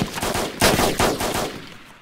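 Rapid gunfire in the video game DayZ, a burst of several sharp cracking shots with short echoing tails, loud and close, no talk.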